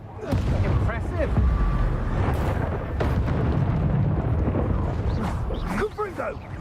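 Spell blasts and booming explosions from a Harry Potter wizard-duel video game, a dense continuous rumble with sharp bursts, with voices talking over the action.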